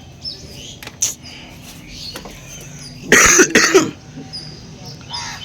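A short burst of harsh coughing, close and fairly loud, stands out against quiet background noise with faint chirps.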